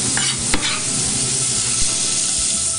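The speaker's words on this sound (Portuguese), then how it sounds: "Vamos mexer. Colher de pau." Chopped onion sizzling in butter and olive oil in a pan while a wooden spoon stirs it, a loud continuous fry with a couple of scraping strokes and no talking.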